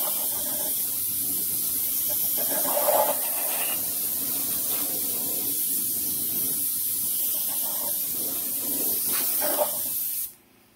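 Compressed air hisses in one long, loud, continuous blast, blowing dust and debris off Lancia Prisma HF integrale parts during a restoration build. The blast cuts off abruptly near the end.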